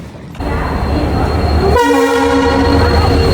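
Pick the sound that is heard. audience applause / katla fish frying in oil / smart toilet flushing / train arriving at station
train arriving at station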